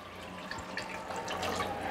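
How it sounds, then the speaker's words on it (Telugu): Water pours into a pot of tomato rice with a continuous splashing trickle that swells slightly toward the end, close and fairly soft. "రైస్ వండేది లేదు దాంట్లో పోసేదే వాటర్ అయితే పోసేస్తున్నాను"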